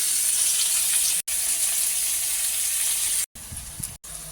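Bowl-rinsing water poured into a hot cooking pan of fried onions and potatoes for goat curry, giving a steady loud hiss and sizzle that breaks off briefly a few times.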